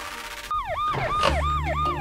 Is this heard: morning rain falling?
no